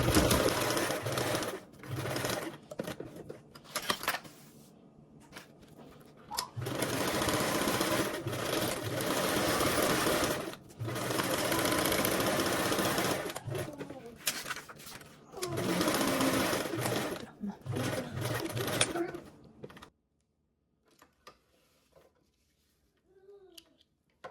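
A sewing machine stitches divider pocket lines through mesh fabric in long steady runs, broken by short pauses and stop-start bursts, loud and close, before going quiet near the end.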